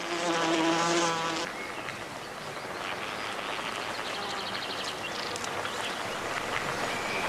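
A dense swarm of wasps drones steadily and loudly around their paper nest in a British summer setting, with the close buzzing continuing unbroken throughout.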